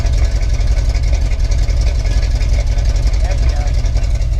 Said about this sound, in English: Here's a truck idling now if you want to hear it.